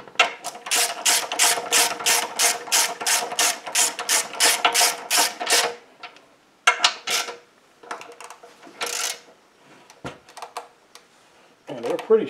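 Bolts are snugged tight on a Kohler SH265 engine with a ratchet, a fast run of rhythmic clicking strokes followed by short scattered bursts of ratcheting and metallic clinks, close up with pauses between.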